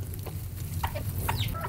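Chickens cluck softly in short bursts on a Northern California half-acre homestead, a few low calls close by over a steady rumbling background.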